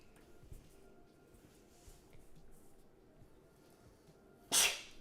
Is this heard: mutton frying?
no